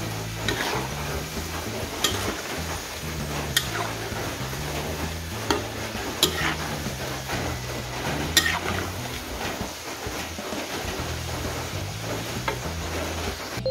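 Crispy salty Thai krong krang dough pieces deep-frying and being flipped in oil, a steady bubbling sizzle with intermittent clicks and scrapes of a utensil against the pan, no voices.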